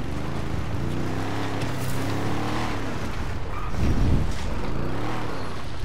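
A car engine revs and pulls in the driving game GTA RP, a loud, steady drone that swells into a deeper, louder rush near the end, with no talking heard.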